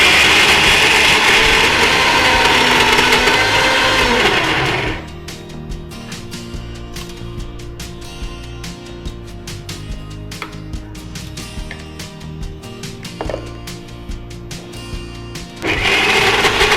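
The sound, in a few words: mixer grinder grinding sprouted green gram, green chilies and ginger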